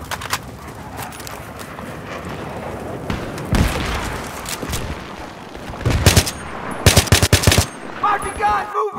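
Machine gun covering fire in a military combat video game featuring Marines against Russian forces: broken bursts of automatic fire and heavy booms, growing louder and denser toward the end, with radio-style voices talking over the shooting.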